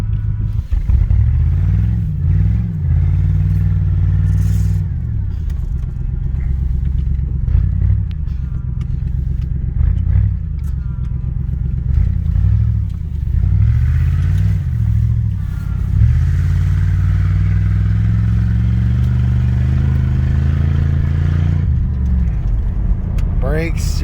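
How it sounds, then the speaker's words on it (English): A Ford Crown Victoria engine idles and revs repeatedly up close, with a steady mechanical whine from the power steering pump running under the engine noise throughout. "Listen to that power steering pump just whining."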